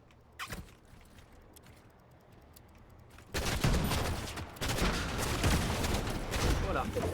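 Rapid bursts of gunfire from the Fortnite video game, with loud, dense shooting kicking in past the midpoint and continuing over a player's voice.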